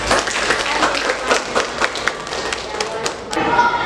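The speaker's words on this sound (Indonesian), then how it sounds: "Tepuk tangan untuk Jepang" A classroom group claps for a team of students after their presentation, a busy patter of hand taps with scattered louder smacks running steadily throughout, close by and fairly loud.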